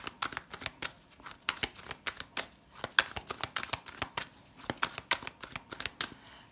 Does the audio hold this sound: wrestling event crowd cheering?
no